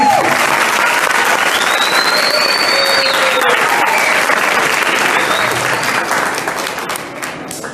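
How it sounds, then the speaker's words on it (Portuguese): A large audience claps for athletes at a wushu spectacle, a dense, steady roar of applause that carries on loudly for several seconds before thinning and fading toward the end. "Uma salva de palmas aos nossos atletas."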